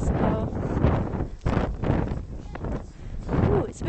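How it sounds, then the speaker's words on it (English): Gusty wind buffets the microphone in low rumbling bursts that rise and fall over a few seconds, with no clear voices, on a walk by a golf course in Whitstable, England. "it's a bit windy"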